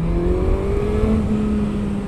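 Car engine revving hard as it accelerates out of a curve in second gear at around 60 km/h, a steady rising drone with a low tonal whine climbing slowly in pitch, close and continuous throughout.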